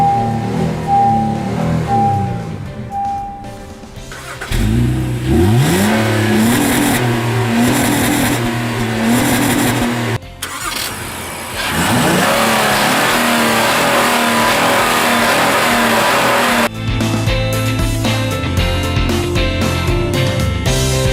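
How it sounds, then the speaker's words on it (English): A brand new 2017 Honda Ridgeline pickup truck on a test drive, its engine humming loudly and steadily from inside the cab, rising in pitch as it accelerates through gears with brief shift dips. "So Ryan, on our test drive of the brand new 2017 Honda Ridgeline"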